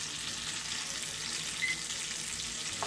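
Pieces of liver fry in bubbling butter in a pan, giving a steady, close sizzle and crackle with no speech over it.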